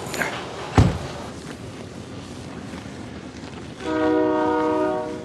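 Outdoors in sub-zero cold in Canada, a train horn sounds loudly and steadily near the end, a sustained chord over rumbling wind noise after a sharp knock early on.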